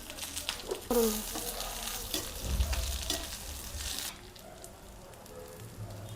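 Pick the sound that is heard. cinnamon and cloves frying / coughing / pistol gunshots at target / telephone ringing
cinnamon and cloves frying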